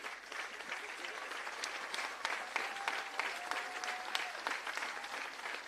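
An audience at a civil service long service awards ceremony applauds, a sustained, even roar of many hands clapping heard from a moderate distance, steady and unbroken for several seconds.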